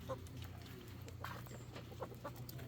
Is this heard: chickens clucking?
yes